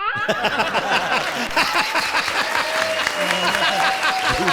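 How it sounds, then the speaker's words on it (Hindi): A studio audience at an Indian comedy show claps loudly and steadily throughout, with some voices and laughter mixed into the applause. "जोरदार तालियां"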